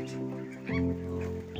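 Muscovy ducks at a home poultry setup give a short series of honking, nasal calls, close and moderately loud, with no talk over them.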